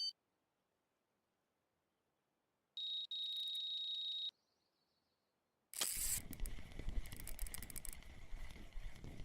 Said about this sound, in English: There's another beep other than this one.